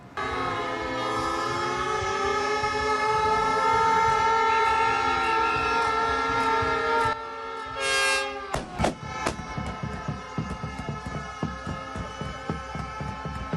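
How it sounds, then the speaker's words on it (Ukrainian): Loud, sustained blaring sirens in several overlapping tones at a farmers' protest march in Warsaw, cutting off abruptly and giving way to sharp bangs and clatter. "Свою ходу аграрії ще й цинічно супроводжують звуками сирени."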